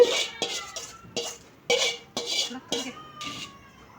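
Metal spoon stirring and clinking against a pan while mixing a mint and coriander chutney, a series of sharp scrapes and taps in an irregular rhythm, close and alone.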